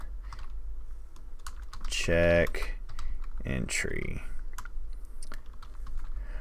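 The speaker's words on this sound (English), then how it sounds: "Now, I just did a lot of typing" Quick clicking keystrokes on a computer keyboard run throughout, close by, while a person speaks briefly over the typing.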